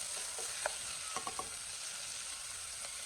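Ingredients stir-fried in a pot for an egg dish give a steady, even sizzle, with a few sharp scraping clicks from the stirring utensil.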